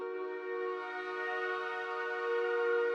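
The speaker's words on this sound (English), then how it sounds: "Just a long chord" A long sustained synth chord from the FL Studio Flex preset Lowball, played with the shaper box effect off, so it holds steady and unpulsed, rich and bright, ringing alone for about three seconds.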